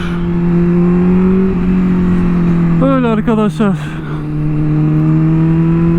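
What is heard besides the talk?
car pulling out and driving away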